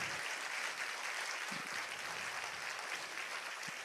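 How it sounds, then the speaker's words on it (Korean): Church congregation applauding during a spring Holy Spirit revival service, a steady, even wash of clapping sustained throughout without any talk over it. "두 분에게 한번 박수해 주십시오."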